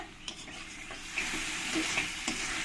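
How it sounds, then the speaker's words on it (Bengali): Spice paste sizzling in oil over a medium flame as it is stirred for a pomfret fish curry, with a steady fry and regular spoon scrapes against the pan, close and moderately quiet. "মশলাটা আমার ভালো করে কষানো হয়ে গেছে"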